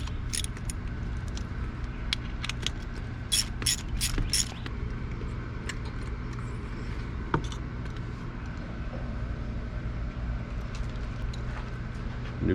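Ratchet on a long extension turning a spark plug in a Toyota 4Runner engine bay, giving steady close mechanical clicking and creaking with a few brighter metallic ticks early on, no talking.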